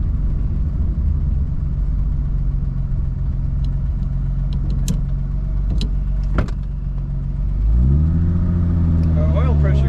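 A 1932 Chrysler CI 3-window coupe with a 3-speed manual idles steadily with a low, smooth purr, close and continuous, shifting slightly in tone near the end as a higher whine rises.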